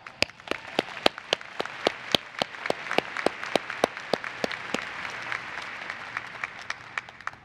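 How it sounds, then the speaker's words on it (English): Convention general session audience claps in a scattered round of applause, sharp individual claps spread through a large hall, steady and moderate in volume without cheering. "Let's give a warm round of applause"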